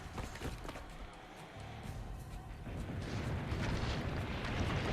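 Cannon fire pounds city fortifications in Assassin's Creed Brotherhood, deep rumbling blasts and crumbling debris that swell louder and denser through the second half, with hardly any talk.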